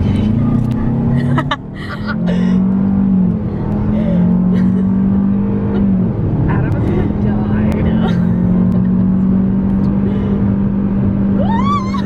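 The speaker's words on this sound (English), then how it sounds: "Oh, this car goes pretty fast." A car at a Rev Indy event accelerates with a loud, sustained engine drone that climbs in pitch near the end, while voices chatter over it.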